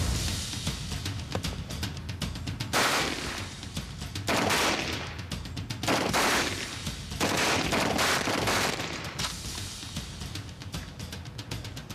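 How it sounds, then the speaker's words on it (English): Rapid bursts of gunfire hammer a Dragon Skin ballistic vest, loud close volleys of repeated rounds over about twelve seconds with brief gaps between strings of shots and no talking. "I quickly unloaded an additional 20 rounds into the vest."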